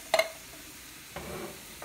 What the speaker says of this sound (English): Then I take and stir this all together.